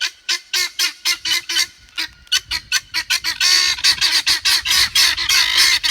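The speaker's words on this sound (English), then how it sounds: "And my guineas, they're pissed off too." Guinea fowl squawk in a rapid, rhythmic series of loud, harsh calls, close by and overlapping more densely toward the end.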